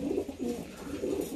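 Racing pigeons at the loft after a 200-mile race coo softly in low, throaty, repeated bursts, faint and close, with no talk over them.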